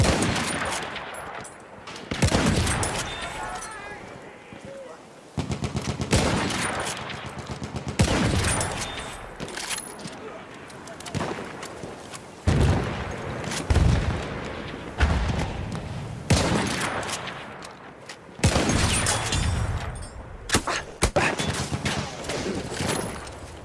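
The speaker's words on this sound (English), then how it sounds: "Présence d'une mitrailleuse" Machine gun bursts rattle through a Battlefield 1 match, repeated rapid volleys with heavy thumps and distant explosions over about twenty seconds, loud and nearly continuous with brief pauses.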